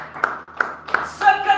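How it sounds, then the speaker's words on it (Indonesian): Church congregation clapping hands: three distinct, evenly paced claps close by, followed by a voice that cuts in just after. "Tepuk tangan buat Tuhan Yesus."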